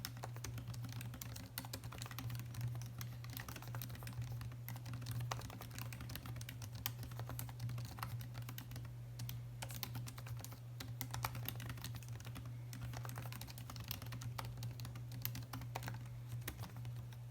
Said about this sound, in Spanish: Como nota negativa, este teclado hace más ruido que los anteriores.